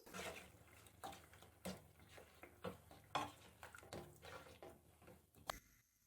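A spoon stirs a yogurt, black pepper and salt mixture in a pot for white chicken karahi, making soft, repeated scraping and clinking strokes that are close but quiet, with no talking.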